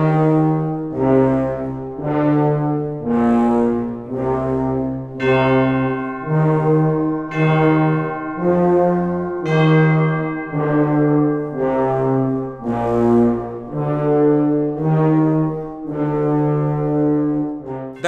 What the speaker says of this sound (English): One octave melody note per bar, with no accompaniment except for the ones and fives tolling in the bells.